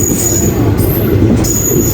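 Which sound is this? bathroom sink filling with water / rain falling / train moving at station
train moving at station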